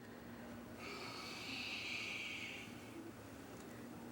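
A long, steady exhale during a yoga flow, a breathy rush that swells and then fades, heard close and alone with no talking.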